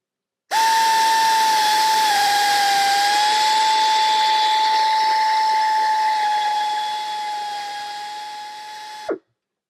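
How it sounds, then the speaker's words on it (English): An angle head drill with a 1/4 inch bit bores a hole for a helicoil tap, a loud, steady high-pitched whine running unbroken for about eight seconds before stopping abruptly. "we're going to use a smaller drill called an angle head drill"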